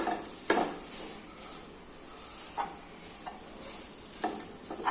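A wheat flour mixture is stirred in a pan over low heat, a faint steady sizzle with occasional light scrapes and taps of the spoon against the pan, quiet and close, without talking.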